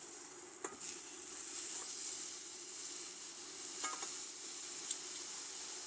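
Steak sizzling in a pan as it is flipped, a constant bright hiss with a couple of soft clatters from the turn, close and fairly quiet.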